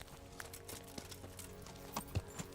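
In the video game Kingdom Come: Deliverance, a horse's hooves clip-clop in a steady, faint walking rhythm over a low background hum, with no talk.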